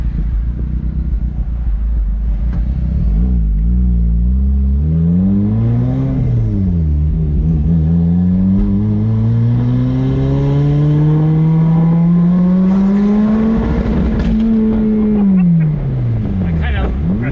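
A turbocharged Toyota MR2 with an essentially straight exhaust revs up and down through a long, loud pass, engine pitch climbing and dropping with some crackle near the end.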